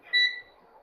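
A digital multimeter on its continuity setting gives a single short, clear electronic beep, high-pitched and close, with no talk.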